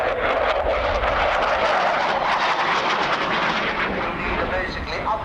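A military jet roars steadily overhead at an airshow, a loud, broad engine rush that fills the whole stretch without a break.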